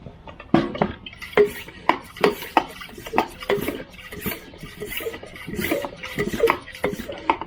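Pressurized concrete sealer sprayer being shaken by hand, giving a run of sloshing, knocking liquid rattles in uneven bursts, fairly close and moderately loud, with no talking.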